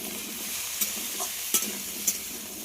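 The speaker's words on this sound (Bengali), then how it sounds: "আলুগুলো খুব ভালো করে ভেজে নেব।" Cut potatoes fry with black cumin and dried chillies over a wood-fired stove, giving a constant close sizzle broken by three sharp spatula scrapes against the pan, with no talking.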